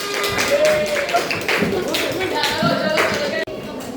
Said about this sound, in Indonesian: Boleh kembali tepuk tangan semuanya.